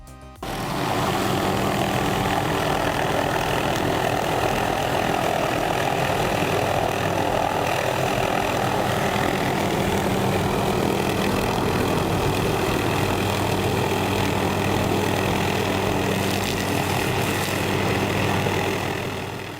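Small plane engine running steadily during an emergency landing on a golf course, a loud continuous droning hum with a low rumble that holds without a break throughout.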